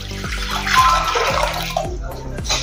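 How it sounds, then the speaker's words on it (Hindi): Water pours into a kadhai in a home kitchen for cooking rice pulao, a splashing, gurgling stream with a few repeated low knocks, fairly loud and close. "तो कढ़ाई में हम पानी डालेंगे।"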